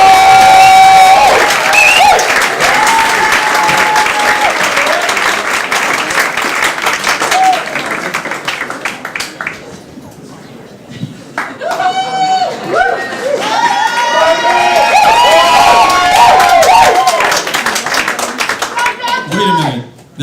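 Audience at a comedy show applauds and cheers for comedian Mitch Benson, with loud sustained clapping and crowd noise, a few whoops, easing midway and then rising again, with a voice speaking over it near the end.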